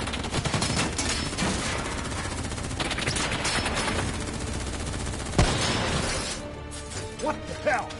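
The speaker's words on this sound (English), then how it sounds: "Who's shooting?" Sustained gunfire from a firefight in Call of Duty Black Ops 3, dense rapid bursts filling most of the stretch with a sharp loud crack near the end, mixed with shouting voices and game effects.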